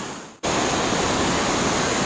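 Pacific Ocean surf at Santa Monica beach rushes as a loud, continuous wash of broadband noise, briefly dipping before swelling back to a steady roar with no voices.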